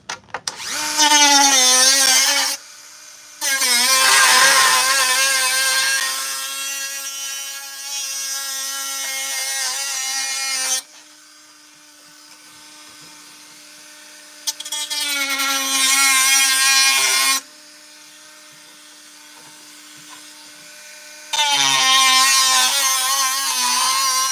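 A Dremel rotary tool cuts along a seam on a model build, its loud high-pitched whine running in long bursts with short pauses and a drop to a lower idle hum between cuts, no voices.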